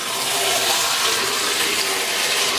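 Water poured steadily into a pan of cooked jackfruit curry, a continuous close splashing rush with no pauses.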